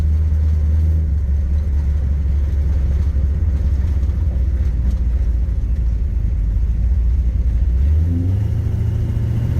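A 1969 Chevrolet Camaro with custom paint drives along, its engine giving a loud, steady low rumble throughout, with a slight rise in pitch near the end as it accelerates; no one speaks.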